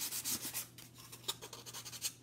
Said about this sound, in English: I'm going to sand. I am sanding.